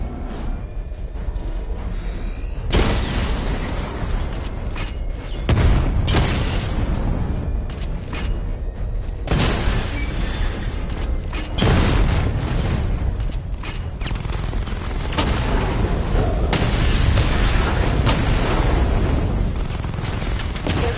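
Missile barrage in Batman Arkham Knight, heavy explosions landing in repeated waves of booming blasts, loud and close, with rumbling bursts across the whole stretch and no talking.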